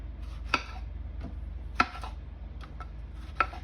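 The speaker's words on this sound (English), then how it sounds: "I have 5 tomatoes here that I'm gonna cut straight in the blender" A knife cuts through fresh tomatoes over a blender, giving a few sparse, sharp taps and soft slicing clicks spaced about a second apart, close and fairly quiet over a low background hum.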